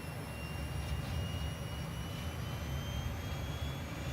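A T-38A jet in Microsoft Flight Simulator 2024 gives a steady, droning engine roar with a rumbling low end and thin high whine, continuous and even throughout, with no voices.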